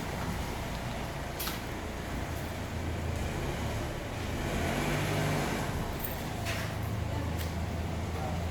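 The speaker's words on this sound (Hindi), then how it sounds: "ये दिल्ली में ट्रैफिक दोपहर हो या शाम हो या सुबह हो, हमेशा रहता है।" Midday road traffic on a Delhi street, a continuous rumble of passing cars and engines at moderate distance with occasional brief hisses and swells, no talking.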